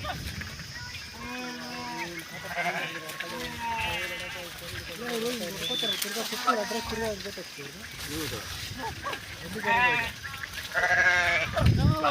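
A flock of sheep and goats bleats repeatedly, with calls near and far overlapping while people talk in the background.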